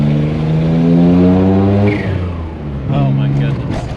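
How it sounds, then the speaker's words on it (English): Turbo compressor surge from a Suzuki Alto Works RSX kei car with a sticking bypass valve, heard as a loud close engine drone that dips and then returns. "Gotta love compressor surge."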